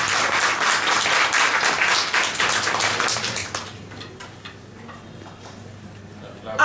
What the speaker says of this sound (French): Applaudissez la presse, s'il vous plaît.